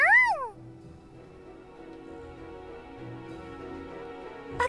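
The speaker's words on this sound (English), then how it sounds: "A cat? Wait, is it a monster? It seems like a nice kitty." A cat character in the video game Super Neptunia RPG gives one short, clear meow at the start, followed by quiet, dark castle-level ambient music and a brief sharp accent at the end.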